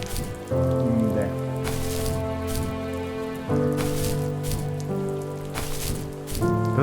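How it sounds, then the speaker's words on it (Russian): Steady rain patters and hisses through a rainy scene in The First Tree video game, continuous over the whole stretch and layered under sustained tonal music. "Да задолбал уже тут дождик."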